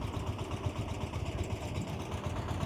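A tractor engine runs slowly at a steady low rumble, close and continuous with no pauses, and no voices over it.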